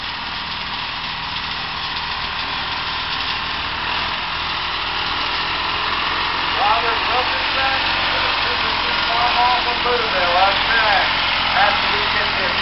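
A John Deere 435 tractor with a Detroit diesel engine idles steadily at a small tractor pull, its broadband engine noise continuous and moderately loud, with crowd chatter and voices audible underneath throughout.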